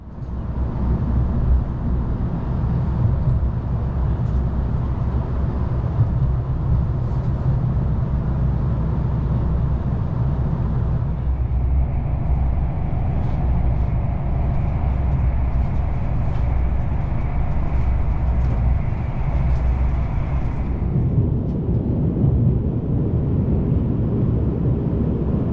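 A Vy passenger train on Norway's Bergensbanen runs out of Oslo with a steady, loud low rumble of wheels and carriage. A hum shifts in pitch partway through, and there are a few faint ticks.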